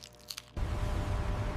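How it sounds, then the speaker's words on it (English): A crisp fried banana chip snaps into a dense, loud crunch after a moment of quiet, then keeps crackling briefly up close. "The sound of the perfect banana chip crunch."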